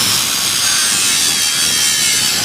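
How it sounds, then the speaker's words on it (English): Steady, loud abrasive grinding of a weld bead on a pipe, a continuous hissing rasp held at an even level throughout with no pauses. "It's really a slight grind."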